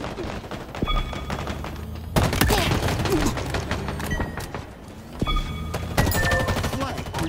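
Gunfire in a Halo Infinite multiplayer capture-the-flag match, with repeated loud bursts of rapid shots and impacts that come in waves against steady game noise, alongside brief game announcer voice lines.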